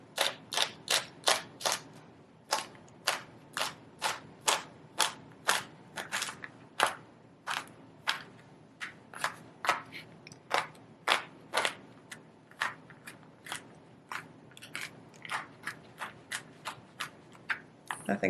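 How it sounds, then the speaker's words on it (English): Vegetables chopped with a knife on a cutting board, a steady series of sharp, close knocks, sometimes quick bursts and sometimes spaced strokes, continuing throughout with no voice. "So I'm just going to chop this up."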